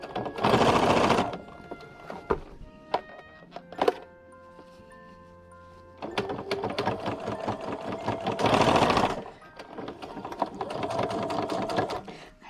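A sewing machine stitches a thick, many-layered car seat poncho in several loud runs of rapid needle clatter, broken by pauses filled with thunks and handling sounds.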